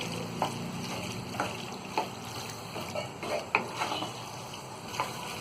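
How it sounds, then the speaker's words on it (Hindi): Pasta in white sauce is stirred in a pan on a gas stove, with a faint, soft sizzle and quiet, irregular scrapes and wet stirring sounds. "वैसे हम 1 से 2 मिनट और इसी तरह चलाते हुए पका लेंगे"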